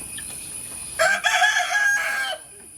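Chickens at a feeding spot in Nagarahole National Park, with a rooster giving one loud, clear crow that lasts about a second and a half, set against faint steady background hiss.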